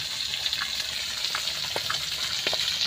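Rohu fish frying in hot oil in a home kitchen gives a steady, loud hiss and sizzle with scattered small pops and crackles throughout.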